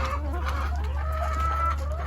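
Several chickens cluck and murmur continuously nearby over a steady low hum.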